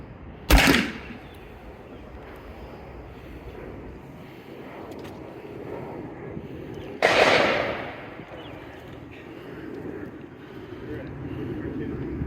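Two sharp, loud reports from a 40 mm less-lethal launcher fired at a police demonstration, each cracking like a gunshot several seconds apart, with outdoor background noise between.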